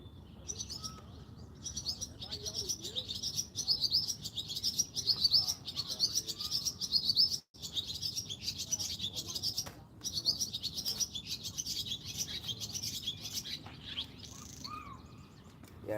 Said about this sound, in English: those are the birds because they got the nest up there